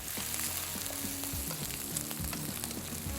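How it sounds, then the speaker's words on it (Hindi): Ginger, garlic and whole mustard seeds frying in oil, a dense continuous sizzle with scattered crackles and pops, close and fairly quiet, with no talk. "इसको थोड़ा सा किया फ्राई।"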